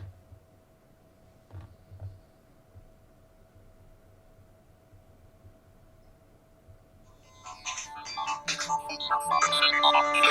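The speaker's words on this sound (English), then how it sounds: "Yes, that's the That Doesn't Byte cast opening song" An old Polycom desk phone connected through an Obi200 VoIP adapter rings with a podcast's opening song as its ringtone. The loud, melodic tune starts after a long quiet stretch of low hum and a couple of faint knocks.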